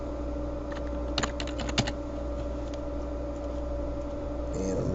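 Keys clatter on a computer keyboard as text is typed in a quiet room, a short burst of light clicks over a faint steady hum.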